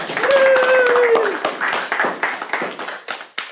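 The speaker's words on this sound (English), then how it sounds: "let's have a round of applause for James." A class claps for a student, a burst of hand applause that begins under a spoken voice and thins into scattered claps before fading out.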